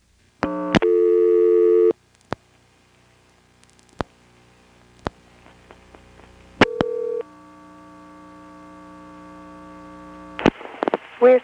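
Telephone line tones after dialing 241 on a 1977 NX1-E exchange: clicks and steady tones, a loud buzzy tone near the start, a quieter sustained tone through the middle and a noisy burst at the end.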